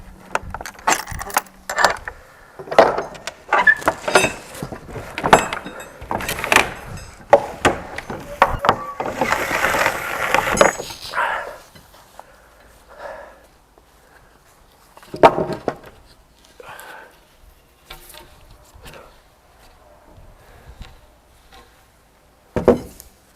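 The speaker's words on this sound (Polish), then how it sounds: "muszę tam od środka drzwi otworzyć" A farm building door is unlatched and opened from the inside, with a run of loud wooden knocks, rattling and metallic clanks of the latch and bolt, followed by quieter scattered bumps and a final sharp clack.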